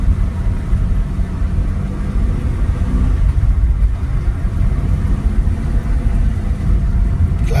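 New car driven on an uphill, winding road, a steady low engine drone and road rumble throughout the interior, constant and fairly loud without pauses.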